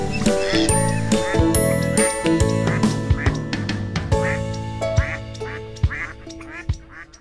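A duckling quacks repeatedly while eating, close and clear, its short calls spaced irregularly over bright tinkling and ringing tones in the background.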